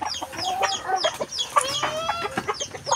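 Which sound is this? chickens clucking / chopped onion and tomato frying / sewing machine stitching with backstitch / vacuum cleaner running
chickens clucking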